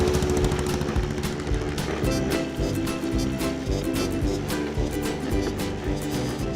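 A small motorized bike engine runs with a rapid, rattling putter, loud and close, pulsing steadily throughout.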